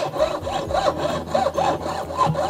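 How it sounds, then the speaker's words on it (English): A steady back-and-forth sawing, a fine jeweler's saw blade rasping through metal in even strokes, close up with no talking. "you can actually hear the edge of the blade cutting into the metal"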